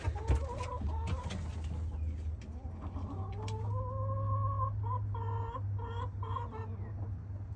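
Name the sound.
chickens clucking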